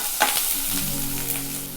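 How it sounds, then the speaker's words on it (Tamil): Hot oil crackles and sizzles steadily as chopped ginger and garlic fry in a pan for Gobi Manchurian, close up, with no talking. "ஆயில் நல்லா சூடானதும் நறுக்கி வச்சுருக்க இஞ்சியும் பூண்டையும் போட்டுடலாம்."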